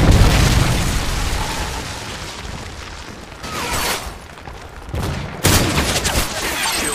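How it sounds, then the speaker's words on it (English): Explosions from a Predator missile strike in a video game, a loud rumbling boom opening the clip followed by further bursts and blasts over a continuous noisy wash of battle sound. "Friendly Predator missile inbound."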